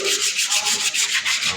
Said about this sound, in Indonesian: amplas tromol seperti di sini